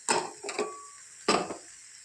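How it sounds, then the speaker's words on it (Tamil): Egg and peas frying in a pan, stirred with a utensil: three sharp scraping clacks against the pan, two close together and one after a pause, over a quiet background. "நல்லா அந்த முட்டை வேகிற வரைக்கும் கிண்டிட்டோம்னா அவ்வளோதான்."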